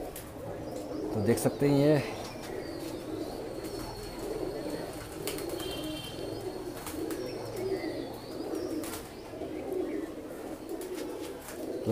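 Golden pigeons coo in soft repeated phrases among trees, with a brief louder burst of calling and wing or rustling noise near the start while someone talks over them.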